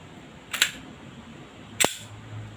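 Two sharp shots from a WE Glock 18c airsoft gas blowback pistol fired in semi-auto into a chronograph, each a crisp crack with a short gas hiss, spaced about a second apart and close by.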